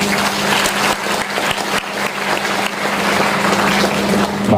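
An audience at a university studium generale lecture applauds loudly and continuously, a dense wash of many hands clapping without pause for several seconds.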